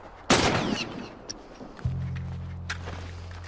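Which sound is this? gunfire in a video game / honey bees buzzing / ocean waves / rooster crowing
gunfire in a video game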